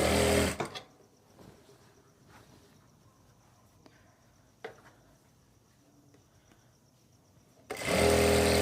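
A sewing machine stitching palazzo pants runs in a loud, fast whirring burst at the start and another at the end, with a quiet stretch of faint clicks and fabric handling in between.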